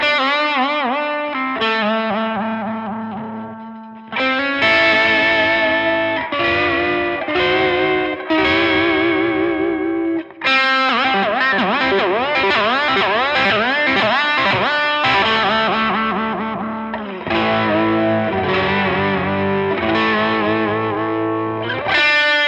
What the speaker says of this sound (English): I'm just going to play a bit now and just move the tremolo a bit so you can hear what that